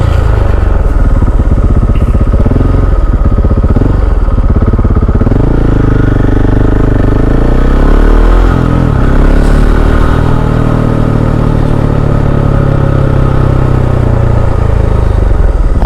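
A KTM 690 SMC R supermoto single-cylinder motorcycle is ridden loud and close, its engine droning and revving up and down through gear changes, with no talk.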